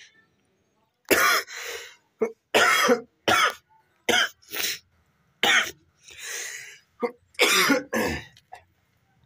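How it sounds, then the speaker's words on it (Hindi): Repeated harsh coughing bursts from a man who is slightly unwell, coming in uneven clusters of loud, close bursts with short pauses between them and no other sound. "थोड़ी सी तबीयत ठीक नहीं इसलिए खांसी आ रही है।"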